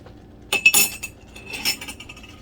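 A spoon used for dyeing yarn is scraped and knocked against a container, giving a few sharp metallic clinks clustered in bursts over a quiet background.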